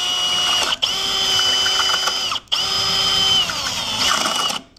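A power drill whines at high speed in close, sustained bursts while drilling into a security lock, briefly cutting out twice before spinning up again, its pitch shifting under load.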